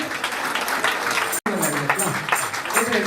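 Clapping rises at a Nepali wedding, a loose patter of many hands mixed with nearby talking voices, broken by a brief cut before carrying on.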